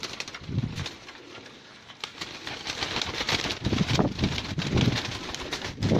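Pigeons of a fancy breed in a loft, giving soft low cooing calls repeatedly across the scene, with some wing flutters and rustling at moderate distance amid steady background noise.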